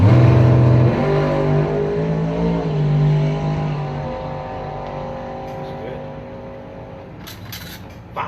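A 1970 Dodge Dart drag car roars off the line and accelerates hard down the strip, its loud engine note climbing and then fading into the distance while an announcer talks over it.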